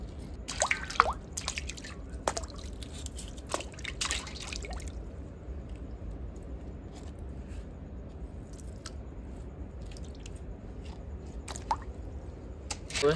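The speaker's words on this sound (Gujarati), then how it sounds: "આને ધોઈ નાખવાના છે ભાઈ આવી રીતે આમ 1-2 પાણી ધોઈ નાખવાના" Cut pieces of pomfret fish being washed in water by hand, with wet squishing, splashes and drips clustered early, then quieter sloshing and occasional clicks.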